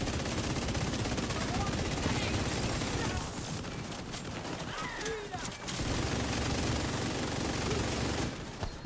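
Hostile forces in a video game fire steadily in sustained bursts, dense and fairly loud throughout, with a brief lull midway and scattered talk underneath.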